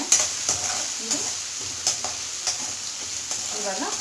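Urad dal tempering in hot oil in a pan for brinjal saaru, with a steady high sizzle broken by sharp crackles and utensil scrapes recurring every half second or so, close and clear with no voices.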